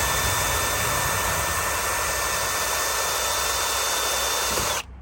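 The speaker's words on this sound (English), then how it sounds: "This is a bigger drill. I'm gonna see if I could actually do anything with it." A larger power drill grinds steadily and loudly into a stripped exhaust manifold nut on a Mercedes, one continuous close-up burst that cuts off abruptly at the end.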